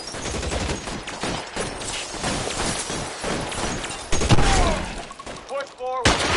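Automatic machine gun fire in an L.A. Noire shootout crackles in a long, uneven stream, with a heavier burst near the end and voices talking over it.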